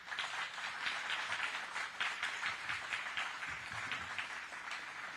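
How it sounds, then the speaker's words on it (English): Applause for candidates at a Farm Bureau candidate forum, a fairly faint but steady patter of many hands heard from a distance. "show a round of applause"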